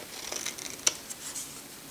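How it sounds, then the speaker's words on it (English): Scissors trim the edge of a paper tag for a Christmas frame craft, giving a quiet, soft sequence of small snips with one sharper cut in the middle, close by and without talk. "I just go ahead and trim off a little bit more here"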